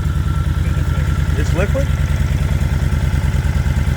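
A Honda motorcycle engine idles with a steady low rumble throughout, while a person speaks briefly over it partway through.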